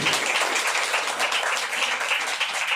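A church congregation claps continuously for a few seconds during a Hindi sermon, dense and lively applause with no talking over it.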